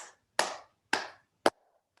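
Four sharp hand claps in a slow, steady rhythm, close and clear against silence.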